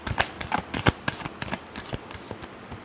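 Tarot cards are shuffled in quick papery riffles and soft slaps, a series of crisp irregular flicks up close with no one speaking.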